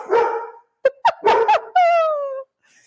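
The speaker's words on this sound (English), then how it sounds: "sorry about the crazy dogs" Several dogs in a home bark in short, loud bursts close by, followed by a longer whining yelp, with pauses of quiet between barks.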